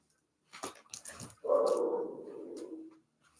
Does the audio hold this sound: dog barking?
yes